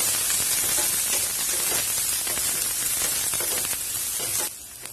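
Garlic, onion and curry leaves fry in hot oil for an Indian broccoli poriyal, a dense, steady crackling sizzle close to the pan that thins out slightly near the end.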